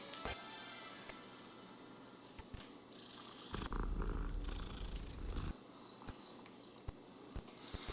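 A cat purrs softly and continuously in the video game Hogwarts Legacy, a quiet low rumble with a few faint clicks and a brief louder, rougher stretch in the middle.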